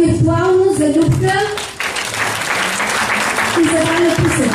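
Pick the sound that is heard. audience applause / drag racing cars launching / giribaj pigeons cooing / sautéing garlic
audience applause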